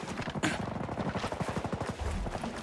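Rapid automatic gunfire in the tactical shooter Ghost Recon Breakpoint, a steady rattling burst of shots at moderate distance, fairly faint and continuous for a couple of seconds.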